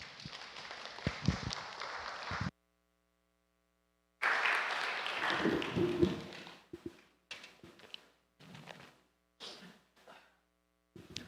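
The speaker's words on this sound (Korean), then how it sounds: "박수로 이렇게 환영하겠습니다." A church congregation claps in welcome. The applause cuts out abruptly into silence, then returns in short broken bursts that fade in and out.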